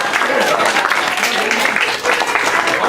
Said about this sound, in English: everyone give Axel a round of applause